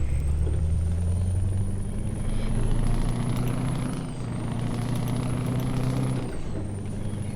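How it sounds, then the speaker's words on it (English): A truck in Euro Truck Simulator 2 drives and turns, its loud engine droning steadily with a high whine that dips twice as it steers, continuous and close throughout. "So just do a test of the turning circle of this truck."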